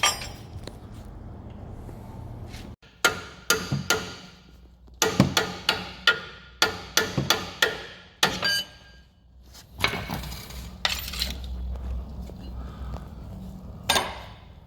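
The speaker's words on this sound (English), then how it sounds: "you hit it with the hammer, Yeah, and it comes off." A series of sharp metallic hammer blows on a Scion xB car suspension part, irregular and clanging, struck in quick bursts with short pauses between, close by.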